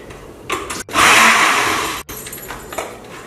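A kitchen blender whirs loudly for about a second, blending very ripe banana and mango, then cuts off abruptly, with quieter kitchen clatter before and after.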